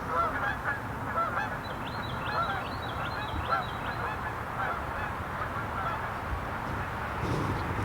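A hen mallard duck near a 2020 War Eagle Gladiator mud boat calls in a short series of quacks, moderately distant, over a steady outdoor rumble.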